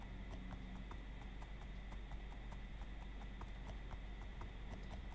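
Donkey footsteps in Minecraft, a steady even clip-clop of hooves under a constant hum of game background noise, with no talking.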